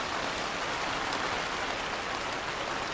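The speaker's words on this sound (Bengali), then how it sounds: "এবারে ফোঁটা বড় বড় পড়া শুরু হয়েছে।" Rain falls over flooded fields in Kakdwip under dark clouds, a dense, even hiss of heavy drops that stays loud and constant from start to finish with no talking.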